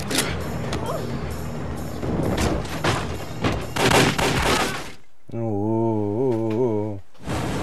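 Gunfire in a battle scene from The Mummy (1999) comes as dense, loud bursts of shots and crashes mixed with film dialogue. A sustained sung or shouted voice follows near the end.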